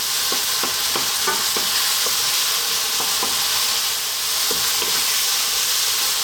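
Crab fried rice made with canned crab sizzles loudly in a pan over high heat as soy sauce goes in. A steady hiss of frying and steam runs throughout, with scattered scraping stirs and no voices.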